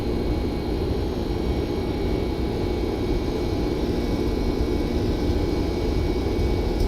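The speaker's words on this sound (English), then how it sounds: "takeoff power is set" Boeing 767-300 engines at takeoff power in the X-Plane 11 flight simulator make a continuous, even, broadband roar with a low rumble underneath and no talking.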